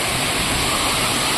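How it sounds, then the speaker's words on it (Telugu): Rani Duduma waterfall in Odisha roaring as a steady, dense wash of falling water, loud and unbroken throughout with no voices. "రాణి డుడుమ వాటర్ ఫాల్స్ మీరు ఎప్పుడైనా విజిట్ చేయండి ఫ్రెండ్స్"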